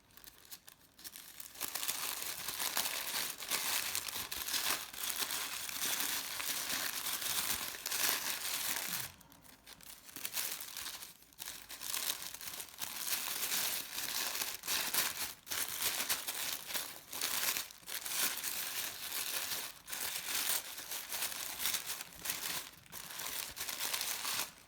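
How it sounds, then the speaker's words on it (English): Thin tissue paper is gently teased apart and crinkled while shaping paper flowers, giving a continuous, close, dense rustling and crackling with brief pauses and no voices. "Just very gently keep teasing and keep teasing the paper."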